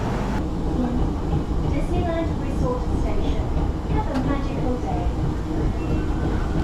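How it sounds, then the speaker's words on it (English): A Disney-themed train at Hong Kong Disneyland rolls along with a steady rumbling drone, faint rattles and squeaks, and muffled chatter and announcements in the background. "you can take this Disney themed train"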